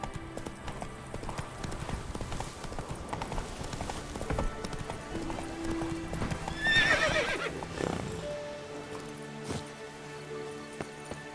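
Roach, the horse in The Witcher 3 video game, gallops with rapid, continuous hoofbeats. Midway it gives a loud, rising whinny, then the hooves slow and fade under the game's ambient sound.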